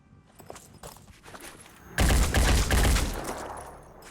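Shot taken in the game Blood and Titanium, a sudden loud boom with a heavy low rumble that rings and decays over about a second, after quieter scattered thumps and clicks.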